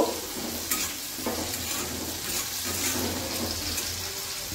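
A vegetable bhaji fries in a pan with a continuous close sizzle, broken by a few soft scrapes and clinks of stirring. No one talks.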